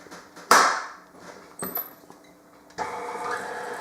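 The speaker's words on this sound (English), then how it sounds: "I'm going to put it on the mixer and just mix it until it gets slightly crumbly." An electric mixer beats butter for shortbread dough. A few sharp knocks and clatters come first, then a steady motor whir starts up near the end, close and fairly quiet.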